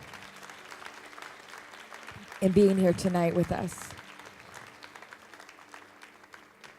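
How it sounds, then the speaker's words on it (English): Applause from an evening church audience honouring people who rescue Yazidi families, soft and diffuse at first, then swelling briefly as someone speaks loudly over it before fading back under his voice. "Can we give them another hand of applause for their courage"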